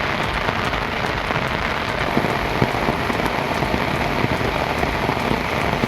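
Heavy rain pours steadily in Tamil Nadu, a dense continuous hiss of drops drumming on surfaces with scattered sharper splatters, loud and close throughout with no voices.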